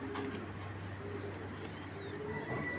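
Imported racing pigeons coo softly in a low, repeated rhythm against faint background hum, the calls quiet and close with no talking.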